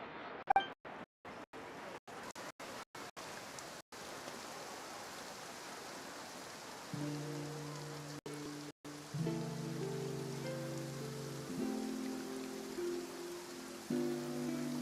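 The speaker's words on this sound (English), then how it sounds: "Looks like rain." Steady rain falls in a video game, a broad even hiss of drops on surfaces running throughout, with sharp clicks early on and game music tones entering in the second half.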